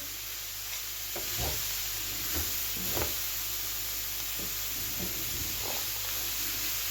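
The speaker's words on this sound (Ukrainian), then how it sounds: "Ось так перемішую." Cabbage softening in a pan, stirred at intervals, with soft scrapes and a faint steady hiss of gentle frying.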